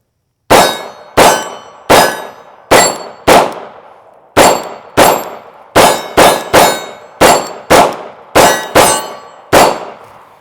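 Sharp shots from a CZ P-07 pistol at a shooting range, about sixteen loud, close reports fired in quick irregular strings, each with a short ringing decay, no talk.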